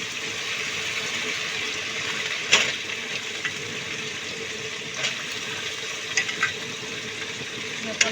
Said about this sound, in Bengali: কাঁঠালটা দিয়ে দেবো, দিয়ে নেড়ে চেড়ে দেবো।